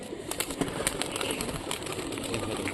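Local Rajshahi pigeons, hand-flying and high-flying racing birds, coo and stir in a loft, with a steady wash of soft cooing, scattered chirps and wing sounds at moderate distance and no clear talk.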